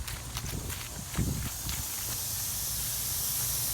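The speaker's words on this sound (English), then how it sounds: "you see one of the heads shooting out air" Compressed air blasts out of a lawn sprinkler head while an underground irrigation system is being winterized, a harsh steady hiss with a few sputtering bursts early on.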